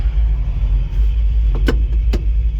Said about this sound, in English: Let's take it for a ride. Give it a little fuel.